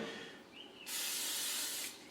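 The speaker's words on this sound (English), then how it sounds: "olive oil spray, so I add that on there" Olive oil cooking spray hisses from a can onto a pan or patty, a brief near burst of steady high hiss lasting about a second after a softer lead-in.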